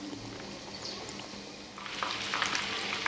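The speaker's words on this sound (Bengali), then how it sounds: "আমাদের মাছগুলো সম্পূর্ণভাবে ভাজা হয়ে গেছে" Pieces of rui fish frying in a pan, a continuous close sizzle that swells louder and more crackly partway through, with no talking.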